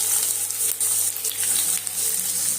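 Onions and crushed garlic frying in oil in a pan for a potato masala fry: loud, close, continuous sizzling and hissing with bursts of crackling and spitting, and no talk.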